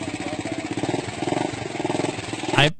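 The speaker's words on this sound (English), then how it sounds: "I've heard motorcycles with more impressive engines." A motorcycle engine idles with a steady, throbbing rumble, close and fairly loud, then cuts off abruptly near the end.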